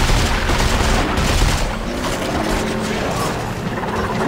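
Continuous heavy weapon fire in the video game Dead Space 3, a dense, loud barrage of shots and mechanical clatter running without a break.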